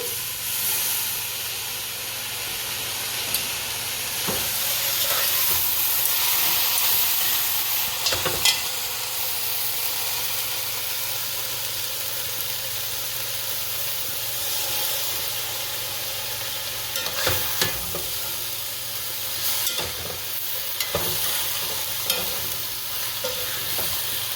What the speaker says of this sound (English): I'm going to add the Dasheen bush now a little at a time and just keep turning it as I go along